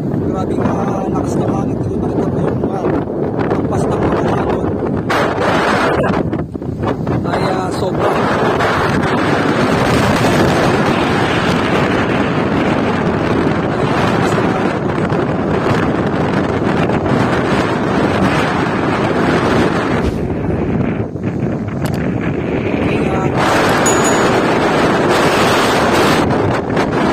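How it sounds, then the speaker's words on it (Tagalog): Strong wind at a windmill site in Ilocos Norte buffets the microphone in a steady, loud roar, with gusty rumbling throughout and a faint washing sound like water in the background. "Grabe ka, lakas ng hangin."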